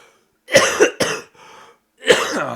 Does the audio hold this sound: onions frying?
no